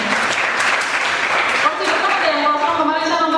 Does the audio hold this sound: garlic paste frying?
no